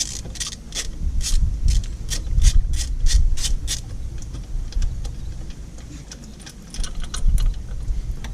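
A 12mm bolt is worked loose on the engine of a 2008 Subaru Impreza with a fast, evenly spaced train of ratcheting clicks, loud and close at first, then sparser clicks and rubbing.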